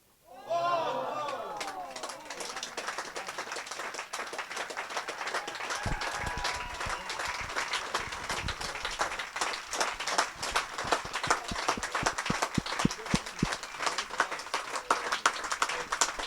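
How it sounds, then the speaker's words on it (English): Sustained applause from a crowd at a lawn bowls match in Johannesburg, greeting a winning last shot that clinched a 21-20 come-from-behind victory; steady, dense clapping that swells and carries on alone for many seconds. "A huge applause you hear is for Carlitz, who came from behind to win 21-20 in a brilliant last hit"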